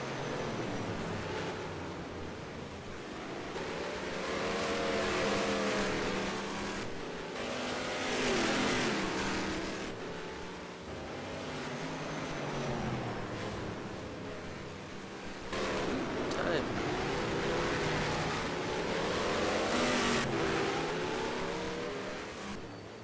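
Ford Mustang race cars lap a track in a racing video game, engine notes swelling and fading as cars rev and pass, a continuous mid-distance drone with no talking.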